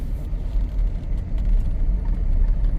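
An off-road overland vehicle rolls along a gravel road on a backcountry route, a steady low rumble of engine and tyres on loose stones holding close and even throughout with no talk.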